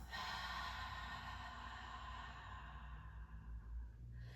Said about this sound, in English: please keep breathing in through your nose, out through your mouth